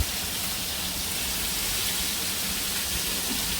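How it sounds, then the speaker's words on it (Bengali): Steady rain falls continuously, a dense even hiss of drops on surfaces with no pauses. "ভালো বৃষ্টি হচ্ছে আল্লাহর রহমতে"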